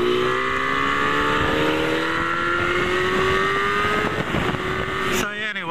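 A turbo Honda streetfighter motorcycle rides through the southern suburbs of Adelaide, its engine droning loud and close with a steadily rising pitch as it accelerates, and wind rush over it; a short shift-like change comes near the end.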